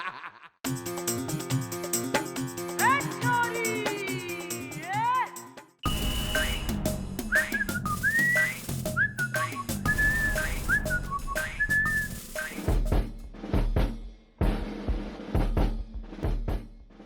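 A person whistles a melodic tune in several bright phrases, loud and close over background music and effects, with brief chuckles and voices mixed in.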